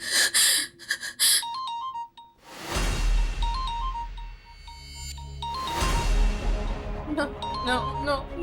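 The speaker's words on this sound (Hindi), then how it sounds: "नो नो, निखिल का फोन नहीं हो सकता" A phone rings with a repeating melodic electronic tone, recurring several times among loud dramatic swells and a gasping voice.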